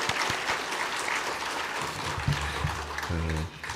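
A church congregation at a Korean early-morning prayer service applauds their pastor, a brief wash of many hands clapping, with a low sustained organ or keyboard chord entering underneath toward the end.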